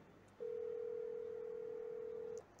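A single long telephone ringback tone on an unanswered call sounds steadily for about two seconds, clear and alone against a quiet background.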